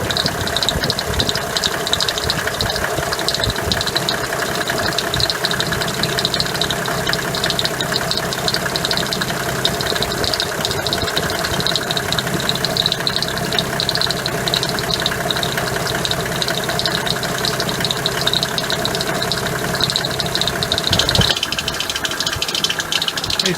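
Diesel engine of a Mercedes W124 E300D estate idling steadily with a knocking clatter and light rattle, close and continuous throughout, with a brief shift in tone near the end and no talk.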